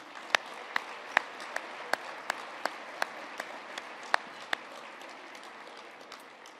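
A banquet audience at a business hall of fame event offering applause for sponsors, a soft distant crowd patter punctuated by a dozen or so sharp individual claps standing out nearby.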